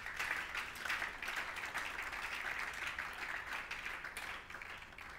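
A church congregation applauds with sustained, dense clapping at moderate distance, fading slightly near the end.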